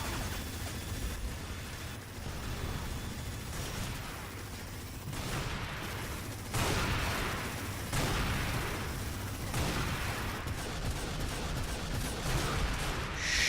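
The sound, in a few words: minigun firing in Unreal Tournament video game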